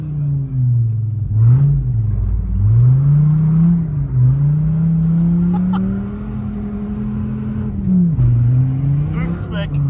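A Dodge Viper ACR drifting on a mountain road, its engine droning loud and close with repeated rises and dips in pitch as the throttle is worked, while people talk inside the car.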